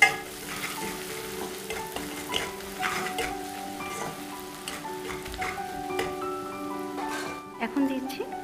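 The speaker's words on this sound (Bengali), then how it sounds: "এবার সমস্ত মশলাগুলো খুব ভালোভাবে কষিয়ে নেব।" Ground salt, turmeric, coriander and dried chilli powder fry in oil with a little sugar, giving a soft, continuous sizzle broken by scraping stirs, with a voice speaking over it.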